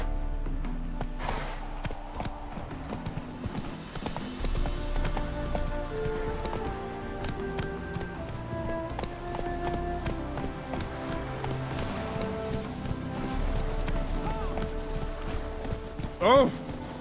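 Roach the horse galloping in The Witcher 3, a quick, rhythmic clip-clop of hooves running steadily over the ground, with game music and ambience layered beneath.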